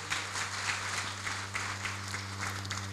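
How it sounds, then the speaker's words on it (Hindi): A meeting crowd claps steadily for visiting guests, a dense and even wash of many hands over a constant low electrical hum, with no one speaking over it. "आगंतुक diamond, double diamond mister Sanjeev sir और सतीश सर के लिए एक जोरदार ताली चाहूंगा"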